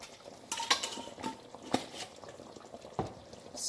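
Garam masala being stirred into Pakistani butter chicken in a pot, with scattered clinks and scrapes of a spoon against metal over a soft bubbling simmer, close and fairly quiet, no talking.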